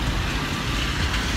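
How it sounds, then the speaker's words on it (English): Rain hisses steadily on a cold London street, a dense unbroken wash of drops close by with low traffic rumble underneath. No voices. "It's raining."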